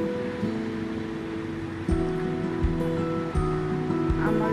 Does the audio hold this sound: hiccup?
no